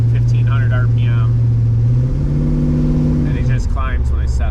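A Pontiac Firebird with a newly swapped engine runs steadily, its low drone shifting pitch as revs change, loud and up close throughout.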